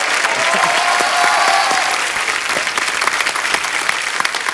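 A television studio audience claps loudly for a music-director duo on a Hindi comedy talk show. The dense, close applause runs continuously for several seconds and eases slightly toward the end.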